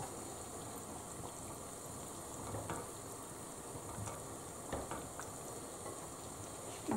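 Zucchini and celery fry in a hot pan for a Tunisian dish, a steady, soft sizzling hiss with a few faint clinks and stirring sounds scattered through, fairly quiet and without speech.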